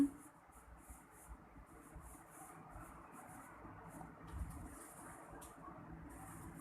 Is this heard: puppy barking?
no